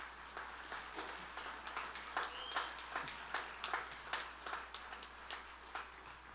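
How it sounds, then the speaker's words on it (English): Graduates applauding at a college commencement ceremony, a steady spread of many hands clapping, faint and distant in a large space with no voices over it. "let's give yourselves a round of applause"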